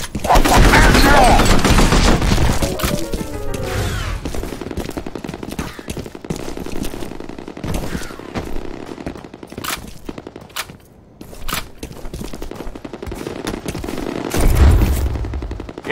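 Gunfire in the shooter game F.E.A.R. Combat: loud bursts of automatic fire and rapid single shots, densest at the start, then scattered cracks with brief quieter gaps.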